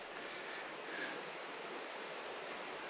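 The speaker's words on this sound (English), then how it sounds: "You hear the river running below the North Esk." River North Esk running below Wallace's Cave, a steady faint rushing of water heard from above at a distance, with no talk.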